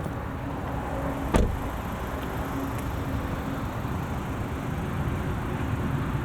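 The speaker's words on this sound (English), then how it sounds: "let's go into off-road mode and show you what this XC90 looks like completely lifted up" Volvo XC90 air suspension raising in off-road mode gives a steady low mechanical whir and hiss inside the car, with a single sharp click early on and a faint tone fading out partway through.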